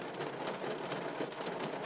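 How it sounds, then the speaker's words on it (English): Rain falling on a car heard from inside the cabin, a soft continuous patter of drops drumming on the roof and glass, steady and fairly quiet throughout. "I am sitting in my car in the rain, which I'm sure you can hear."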